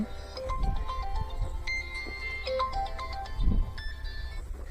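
An electronic phone ringtone plays a bright, looping melody of short beeping notes at moderate volume.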